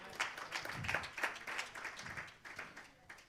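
Scattered congregation applause during a church sermon, faint and uneven bursts of clapping that rise and fall over a few seconds in a reverberant hall.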